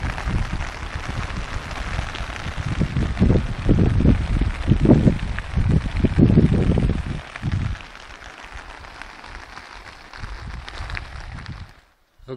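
Gusty wind and steady rain roar through a stormy mountain wilderness in the Santa Fe National Forest of New Mexico, with louder rushing bursts in the middle that ease off toward the end.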